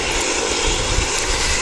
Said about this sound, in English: I think it's the youngest Dash 8 we've got.